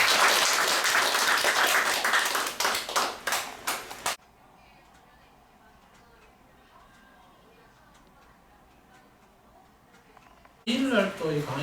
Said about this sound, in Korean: 좋은 강의 해주신 이동일 선생님께 격려 박수 부탁드립니다.